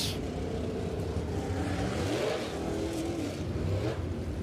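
Dirt late model race cars roar around a dirt oval during a Lucas Oil Late Model Dirt Series feature, engines revving loud and continuous with pitch sweeping as cars pass close by.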